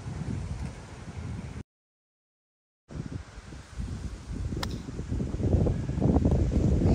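Steady wind buffets the microphone on an outdoor golf course during a match, a broad rumbling rush that drops out briefly and then returns, growing stronger toward the end.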